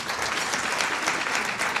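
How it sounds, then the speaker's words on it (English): Audience at the Bank of Namibia launch of upgraded banknotes and new coins applauding steadily for a short stretch, a dense even round of clapping with no voices over it. "Give them a round of applause"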